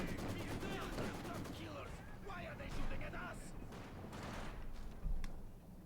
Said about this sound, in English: And uses the flak half track.